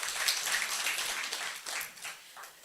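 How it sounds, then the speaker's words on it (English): A round of applause at a mentors and supervisors' workshop, a short burst of steady group clapping, fairly close and even, tapering slightly toward the end with no talking over it. "We can give him a round of applause."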